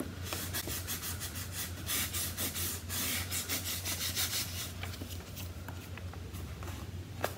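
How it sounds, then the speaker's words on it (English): A hand rubs steadily across paper laid over an inked printmaking block to transfer the image, a close, continuous dry scraping with brief pauses and small taps, no voices. "I need to rub a little bit more in the top corner."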